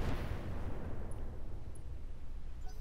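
A mech in the video game Roguetech fires all its weapons at once, a loud, heavy rumbling barrage of overlapping blasts that sustains throughout, with a few faint higher pings; no speech.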